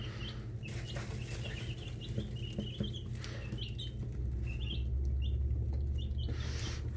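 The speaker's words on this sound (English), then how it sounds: "I could just sit and watch the chicks play and eat." Young chicks peep and cluck softly in a brooder, a scatter of small chirps repeating over a low steady hum, with no talking.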